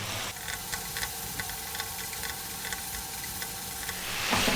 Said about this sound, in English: I always find it quite important to cook that tomato paste out, otherwise it can be a bit bitter.